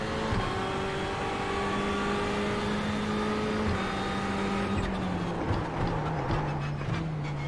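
Ferrari 488 GT3 tyres in the iRacing sim racing game, a loud continuous rolling roar blended with engine drone and slowly shifting pitch, with no talking.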